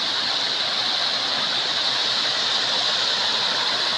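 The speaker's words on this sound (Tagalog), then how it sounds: "Ayan oh, ang tubig." A cold stream flows over slippery rocks, making a steady, close rushing wash of water that holds constant throughout with no voices.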